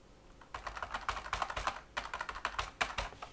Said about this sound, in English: Man, is that a typing experience?